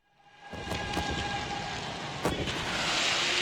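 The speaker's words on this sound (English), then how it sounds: "That is the sound of fireworks" Fireworks bursting over a soccer stadium after an LA Galaxy home match against Vancouver Whitecaps, a loud continuous crackling roar with a few sharper booming pops rising over the din, no voices.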